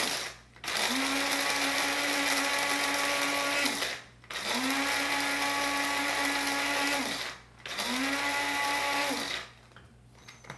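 An electric spice grinder whirs through three bursts of a few seconds each, grinding coarse spices for a homemade pastrami rub. Short pauses separate the loud, steady runs.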